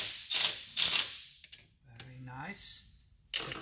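A wrench works a clamp loose on a car's throttle body, producing sparse, close ratcheting clicks and metallic knocks in short bursts with quiet gaps, and a brief voice sound partway through.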